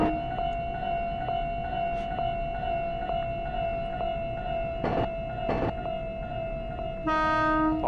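An Iyotetsu Moha 2000 tram in the train game Densha de Go sounds a long, steady horn tone over constant rail rumble, with a few clanks and a brighter burst of horn near the end.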